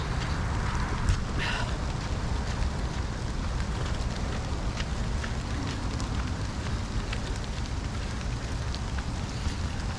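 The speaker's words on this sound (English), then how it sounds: "sound of the rain." Steady rain falls outdoors in a downpour, a dense continuous hiss with occasional louder drops and patters, fairly close and unbroken for the whole stretch.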